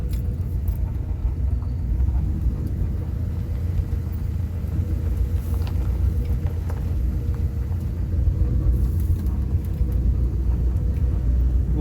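A vehicle in 4-low first gear creeping down a steep hill, a steady loud low engine rumble and drivetrain drone throughout, with faint rattles and jangles over it; no one talks.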